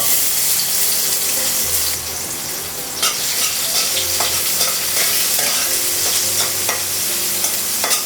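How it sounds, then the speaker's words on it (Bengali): Onions frying in oil in a pan on a home kitchen stove, a steady sizzle with occasional clinks and stirring scrapes of a utensil against the pan. "পেঁয়াজটা একটু ভেজে নিব"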